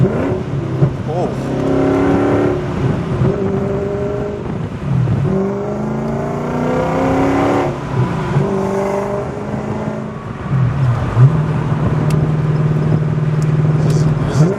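V8-swapped Audi engine revs while driving, rising and falling through throttle and gear changes, loud from inside the car, with people talking over it.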